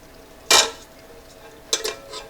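A bowl is fetched and set down in a home kitchen while making blueberry jelly, two brief ceramic clatters, one sharp knock then a double clink a second later, close and fairly loud over a quiet room.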